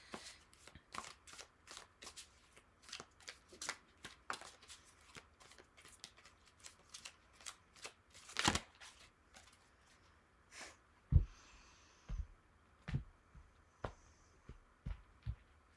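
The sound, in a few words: tarot cards being shuffled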